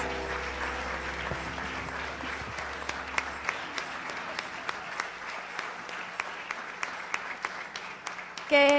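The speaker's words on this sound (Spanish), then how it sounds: "¿Qué tal si le damos un aplauso a todos estos abuelos y abuelas?" Congregation clapping for grandparents at a church service, a steady round of applause that carries on for several seconds with a few sharper individual claps, ending abruptly.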